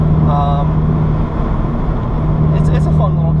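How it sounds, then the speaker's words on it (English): Cabin of a moving 2015 Mk7 Volkswagen GTI with JB1 piggyback tune, intake and center-exit exhaust, a steady low engine and road drone with a strong hum throughout under close talking. "So I drive a 2015 Mark 7 GTI"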